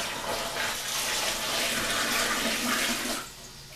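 Hot water poured for making persimmon wine, a steady close splashing rush that runs for about three seconds, then stops abruptly.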